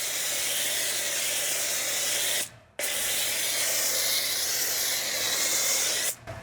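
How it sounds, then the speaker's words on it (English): Two long bursts of hissing wheel cleaner spray from a pump bottle onto car wheels, close and loud, separated by a brief pause, with the second ending abruptly. "I'm just gonna spray this on, let it dwell."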